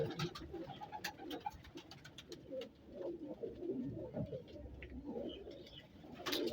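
Pigeons in Sheikhupura coo in low, rolling bursts that repeat steadily, with a few faint chirps and soft ambient rustle in the background.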